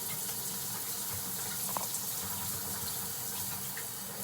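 Water runs steadily from a shower, a continuous broadband rush heard while shampoo is rinsed from wavy hair, loud and close with no talking.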